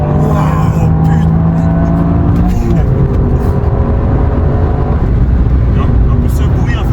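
A Toyota Yaris GR driven hard, its engine and exhaust roaring loud and close from inside the cabin, pitch climbing and falling through gear changes, with a voice talking over it.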